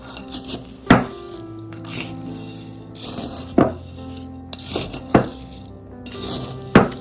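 Dried elderberries are stirred into a tincture mixture with a few clinking knocks of a utensil against a glass jar, spaced irregularly, close and moderately loud.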